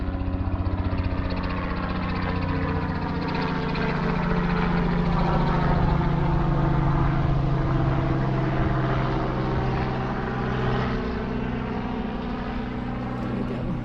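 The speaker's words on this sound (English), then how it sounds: "there's a helicopter coming." Helicopter approaching and passing overhead along a hiking trail, a steady rotor and engine drone with a humming whine that swells gradually and stays prominent throughout, with no talking.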